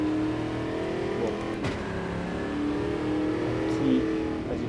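A race car engine revs steadily at close range inside the car on a track, a continuous droning roar with slight rises in pitch, while a voice talks faintly underneath.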